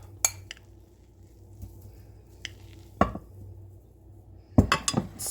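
Casserole mixture is spooned into a 9x9 square baking dish: a few sharp clinks and scrapes of a utensil against the dish, spread out over a quiet kitchen background with a cluster of knocks near the end.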